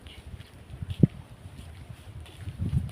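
Gusty morning wind buffeting the microphone in low thumps, with a sharp bump around the middle and a stronger gust at the end.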